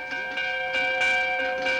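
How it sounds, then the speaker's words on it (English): A bell rings after a court verdict in a 1946 film, its steady, resonant tone sounding in repeated strokes with a faint hubbub beneath. "Stop that bell!"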